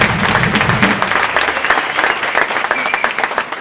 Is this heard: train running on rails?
no